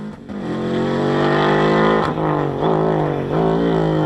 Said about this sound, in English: The speed the Subaru goes through the gears means he's changing gear every 5 seconds.